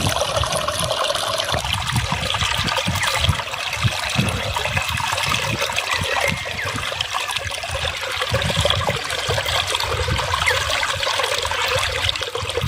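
Irrigation water flows steadily into a freshly planted potato field, a continuous loud rushing and trickling wash that fills the whole stretch without pause.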